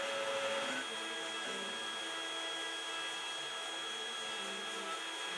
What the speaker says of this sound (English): Here's a little closer look at what the router's doing. It's just carving all my letters.